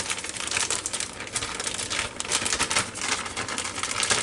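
Plastic vacuum-sealer bags holding sliced beef short ribs are folded over by hand, giving a steady close crinkling and rustling of plastic throughout, with no talking.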